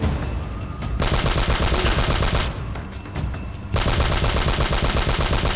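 Heavy gunfire in Uncharted: Drake's Fortune, dense and loud, in two sustained bursts separated by a quieter gap, with shotgun blasts mixed into the rapid firing.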